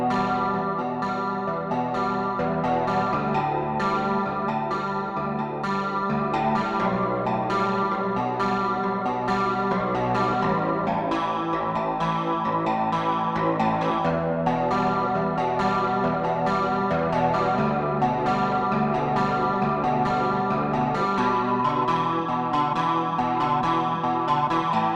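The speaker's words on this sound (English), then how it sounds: "That is the sound of an electric guitar." An electric guitar played continuously with chorus, echo and light distortion, a dense, shimmering stream of rapidly picked notes sustained at an even level throughout.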